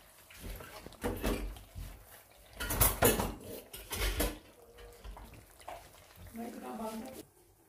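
Chicken karahi being dished out of the pot, with repeated clanks and scrapes of a utensil against metal, some water-like sloshing and a few louder clatters, close by, with a person talking over part of it.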